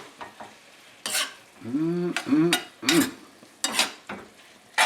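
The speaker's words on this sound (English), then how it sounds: "keep it on low heat, stir it, watch it constantly" A spoon scraping and stirring mango chutney with sugar and honey in a pan over low heat, in separate bursts of scraping with a soft sizzle between, alone and close.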